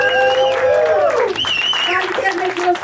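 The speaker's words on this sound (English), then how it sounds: "Another big round of applause for Adam!" An audience at a stand-up comedy show applauds the comedian, the clapping running under a loud voice with strong tonal speech on top, so the applause sits in the background.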